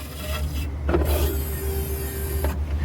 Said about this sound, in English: And you can hear it filling up and priming the system.